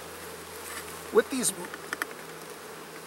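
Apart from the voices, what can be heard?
honey bees buzzing around hive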